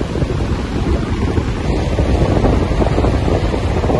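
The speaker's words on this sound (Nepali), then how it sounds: "हावा पुरै चलिरहेको छ हावा" Loud, constant wind roaring over an open mountain ridge between Mongar and Lhuentse in Bhutan, with heavy rumbling buffeting on the microphone for the full few seconds and nothing else audible.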